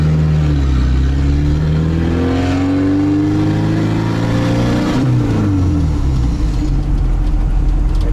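A 1957 Moskvich 402 car on its first drive into town after assembly, its engine loud and close, revving up and down in sweeping pitch changes through steady driving.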